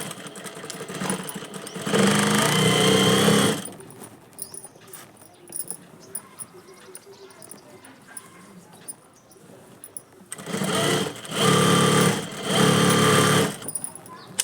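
A sewing machine stitches a thin strip of elastic in two close, loud bursts of fast, steady whirring. Quieter handling and rustling fill the gap between the runs.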